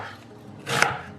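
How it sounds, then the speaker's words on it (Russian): A single firm knife cut through an onion on a cutting board, one short crisp chop rising out of quiet room tone. "Режу репчатый лук."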